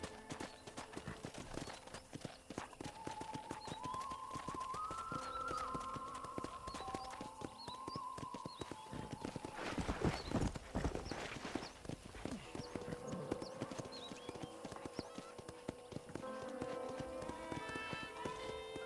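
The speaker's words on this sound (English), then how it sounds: "let's see if you can still ride a horse" Horse hooves clip-clop at a steady riding pace in the Red Dead Redemption video game, with background music and a louder burst of noise midway.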